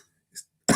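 A single short, sharp cough rings out close by in a quiet room at a charity handicapping challenge, following a faint earlier throat noise after near silence.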